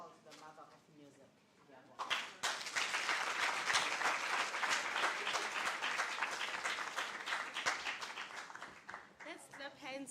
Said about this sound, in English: Let's clap hands for her